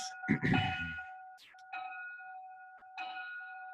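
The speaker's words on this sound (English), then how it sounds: "That was the lunch bell." A school lunch bell rings in sustained, tonal tones with brief gaps, heard clearly through a room alongside some muffled background noise.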